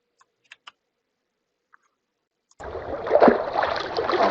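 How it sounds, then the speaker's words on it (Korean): A water-splashing sound effect plays in a school game being built in the Entry coding tool. After a few faint clicks, a loud burst of rushing, splashing water starts suddenly and keeps going to the end. "바위에 부딪히는 물소리인가 해서"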